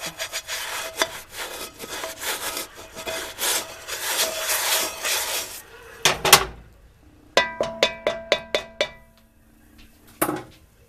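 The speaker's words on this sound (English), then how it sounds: "Just take the back side of the plastic and scrape" The back of a plastic scraper rubs hard across a cast iron pot in a quick, rasping back-and-forth run, then breaks into a series of sharp, separate scrapes and knocks, close and fairly quiet.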